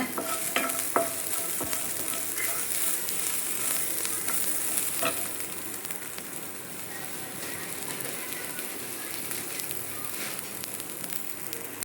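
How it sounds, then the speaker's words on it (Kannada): An inch of ginger fries in hot oil for a Mangalore-style fish curry, producing a dense, even hiss like light rain that runs unbroken and close throughout, with occasional small pops. "ಇದು ತುಂಬ ಚೆನ್ನಾಗಿ ಫ್ರೈ ಆಗಿದೆ"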